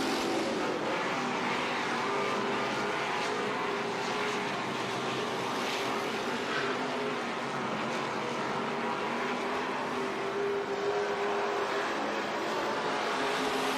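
Hobby stock race cars run a feature on an oval track, their engines blending into a steady, continuous roar heard from a distance with no talking over it.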